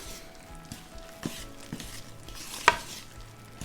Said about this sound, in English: I always do a little at a time once I'm coming towards the end because it gets harder to stir